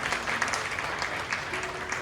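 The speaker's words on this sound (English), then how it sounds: "Please give her a big round of applause." Audience at a school orientation event in Goregaon claps in a steady, dense burst, many hands together at moderate loudness with faint voices beneath.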